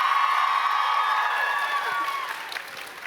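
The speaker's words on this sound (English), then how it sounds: "Raucous round of applause for our guests today" A raucous round of applause with cheering and whoops from a live audience at a TwitchCon podcast taping, steady and dense for the first two seconds, then thinning out and fading.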